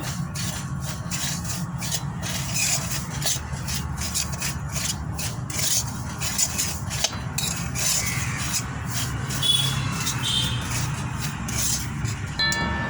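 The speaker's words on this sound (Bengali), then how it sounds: "সুজিটাকে নেড়ে চেড়ে ভালো করে ভেজে নেব।" Semolina is stirred and fried in ghee in a pan on low heat, heard as a continuous close scraping and rubbing of a utensil against the pan with a soft, steady sizzle underneath.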